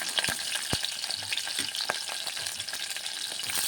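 Onions and green chillies frying with whole garam masala of cinnamon, cloves, cardamom and shahi jeera, a dense close crackling sizzle with a few sharp pops and light stirring, no voices.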